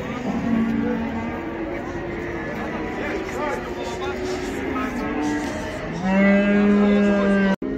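Cattle at a livestock market in Taraz, among them three-year-old bulls, with a long, loud, low moo near the end rising over steady crowd chatter and market noise.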